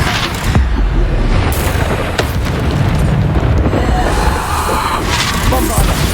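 Bombarda blasting-spell explosions from Hogwarts Legacy make a loud, dense rumble of booms and crashing bursts. They run continuously, with sharp hits near the start and middle, and a faint voice calls out over them.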